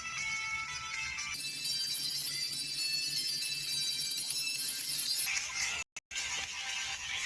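A fidget spinner plays music through its small built-in speaker, a bright, continuous ringtone-like melody heard close up with a steady hiss, broken by a brief cutout near the end.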